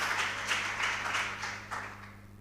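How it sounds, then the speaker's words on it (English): An audience at a junior high school quiz competition applauds in a steady wash of many hands clapping together, with a low electrical hum underneath. "A round of applause for Nana Quainoo, 3 points."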